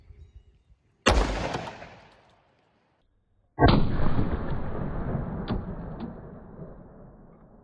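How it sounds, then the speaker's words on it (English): Two sharp, loud gunshots from a 10mm Glock 29 pistol, fired into clear ballistics gel with 135-grain Underwood JHP ammunition, each crack followed by a long decaying echo, the second blast ringing on with a couple of faint clicks. "Let's do one more from the Glock 29."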